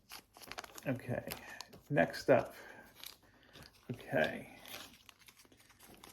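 A comic book slid into a thin plastic bag, with crisp crinkling and rustling in bursts close by, under brief casual talk from two people.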